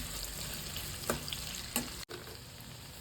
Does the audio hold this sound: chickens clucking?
no